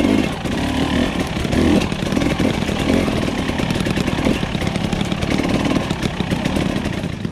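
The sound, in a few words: TE300i dirt bike engine running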